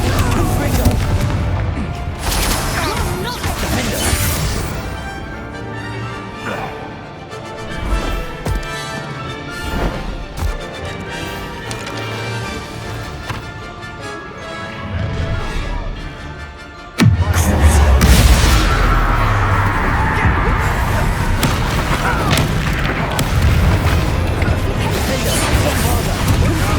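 Bombarda and Confringo spell blasts in the game Hogwarts Legacy, heavy booming explosions layered over game music, with a sudden loud bang near the end followed by sustained crackling roar.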